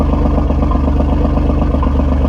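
An Alfa Romeo Giulia Quadrifoglio idles in normal mode with its exhaust flaps closed, giving a loud, close, steady engine burble with an even pulsing throb throughout.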